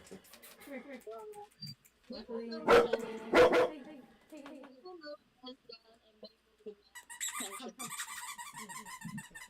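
Mabel the dog lets out two loud sharp barks, with scattered squeaks and talking around them in a quiet indoor room.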